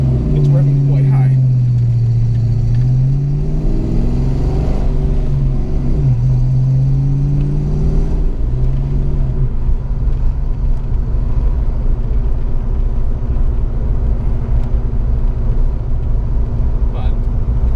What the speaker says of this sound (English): It's revving quite high.